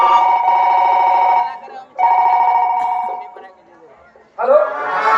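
A telephone rings during a call in a Kannada drama scene, with two long, steady electronic ring bursts separated by a short gap and then a fainter, wavering tone.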